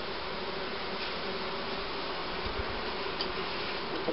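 A queenless honeybee colony hums with a continuous, even buzz of many wings, steady and close throughout, with no voices over it.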